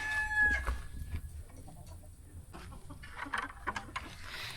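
Farm chickens clucking and a rooster crowing near a chicken feeder, layered calls rising over a low outdoor background, moderately close and steady throughout.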